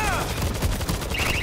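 Enemy turret fire in the World War Z video game, a rapid burst of loud gunshots in a dense, continuous volley lasting the whole moment, with no speech.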